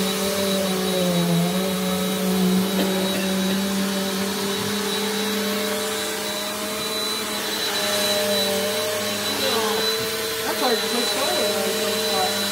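A small, lightweight upright vacuum cleaner with no height adjustment runs steadily and loudly close by, a continuous whirring motor hum with shifting pitch as it is pushed, with people talking over it.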